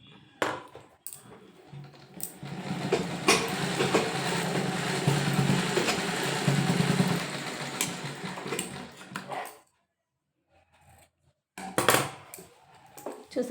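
Sewing machine stitching around a blouse neckline, a steady close mechanical whirr running for several seconds, stopping, then brief bursts of stitching again near the end.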